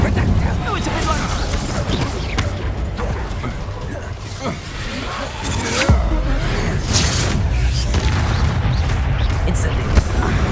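Incendio fire spell cast over and over in Hogwarts Legacy, heavy booming, crackling bursts that rumble on without a break, one sharper burst near the middle, under a voice talking.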